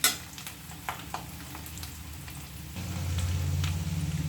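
Garlic frying in oil for a garlic pickle, a steady soft sizzle with scattered crackles that grows fuller and louder partway through, with no talking.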